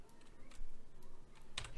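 Quiet clicks of keys being struck on a computer keyboard during video editing work, coming in an uneven patter with one sharper keystroke near the end.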